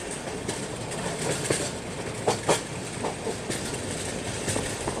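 A passenger train on the Agartala–Bengaluru Humsafar runs alongside an NMG rake goods train, giving a steady rolling rumble with rhythmic clickety-clack of wheels over rail joints and occasional sharper clanks, continuous and fairly close, with no talking.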